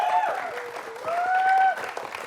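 Studio audience applause on a comedy variety show, a dense run of clapping with whistle-like tones and a voice cutting through.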